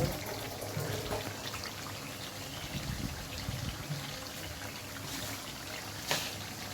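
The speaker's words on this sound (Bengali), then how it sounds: "একটু পানি দিলাম।" Water is poured into chicken bhuna cooking in a pan, a soft continuous trickle and splash under a low kitchen hiss, with a couple of brief clinks.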